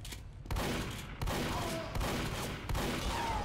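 Rapid gunfire from a sentry gun in Team Fortress 2 on Xbox 360, a dense, loud burst of shots broken into four bursts roughly every 0.7 seconds amid busy online match noise.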